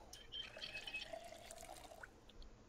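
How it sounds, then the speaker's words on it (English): Water trickling and dripping in a video game as a water bottle is filled at a source in Project Zomboid, a soft, steady liquid flow lasting a few seconds at low level. "I need to fill up my water bottle."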